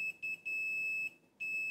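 Steady electronic beeps from a multimeter on continuity test while a circuit inside a Blackmagic Pocket 4K camera is probed, sounding as several short tones then one long sustained tone, close and clear.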